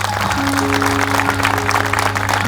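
An audience at a parish youth gathering claps loudly and continuously for a couple of seconds, over a steady sustained tone.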